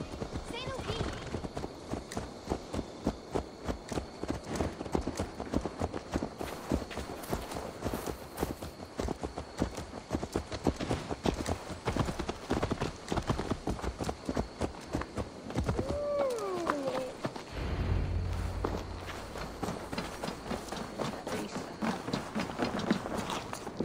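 Horse hooves clip-clop in a steady rhythm in Assassin's Creed Valhalla, close and continuous for most of the stretch, with a brief whinny and other game sounds near the end.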